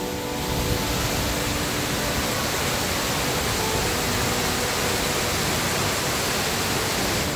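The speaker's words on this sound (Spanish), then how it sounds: "pero mirad lo que echa en la cascada." A waterfall in northern Iceland, fed by a river that looks low on water, roars steadily at full force as a dense broadband rush without a break, with no voices over it.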